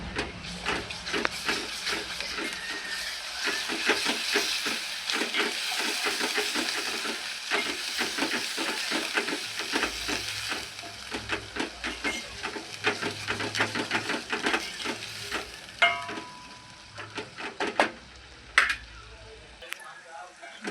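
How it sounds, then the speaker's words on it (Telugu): Ginger garlic paste with a little turmeric frying in a pan while being stirred: a steady close sizzle under rapid, rhythmic spoon scrapes that slow into sparser, sharper clinks near the end. "అల్లం వెల్లిగడ్డ వాసన పోయేంత వరకు కొంచెం వేపుకోవాలి"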